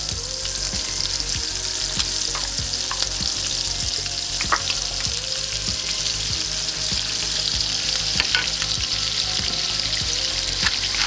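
Butter sizzles steadily in lemon-infused oil in a pan over medium heat, with a constant close hiss and crackle and regular light taps of a utensil stirring against the pan, and no voices.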